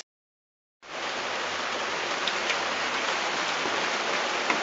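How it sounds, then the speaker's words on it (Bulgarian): Heavy rain falling outside, a dense, loud and steady hiss of drops that starts abruptly after a moment of silence and continues unbroken. "навън много вали"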